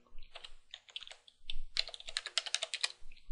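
A password is typed on a computer keyboard at a Linux root login prompt, with crisp, close key clicks coming in quick uneven runs, first sparse and then rapid, and no speech over them.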